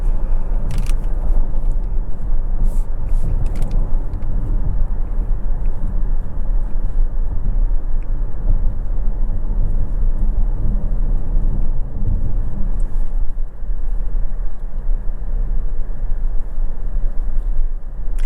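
Inside a moving 2023 Lexus RZ450e on 20-inch wheels, a steady low road rumble and faint wind hiss continue without pause, with occasional small clicks and no voices.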